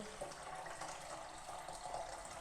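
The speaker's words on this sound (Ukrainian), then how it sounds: "Доливаю повністю воду." Water pours steadily into the reservoir of a Gaggia Classic Pro espresso machine, a continuous close splashing fill with no pauses.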